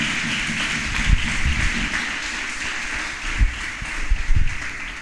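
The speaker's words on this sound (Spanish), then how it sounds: "Den un aplauso al Señor" A church congregation applauds during a sermon, a sustained bed of hand clapping with a few heavier low thumps and bursts standing out, loud and continuous.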